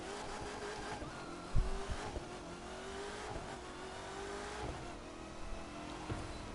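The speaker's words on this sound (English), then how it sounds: "That supercharger though." Car engine in The Crew 2 racing game revving with a supercharger whine, a steady rising harmonic tone under game noise, with one sharp thump early on; no talking.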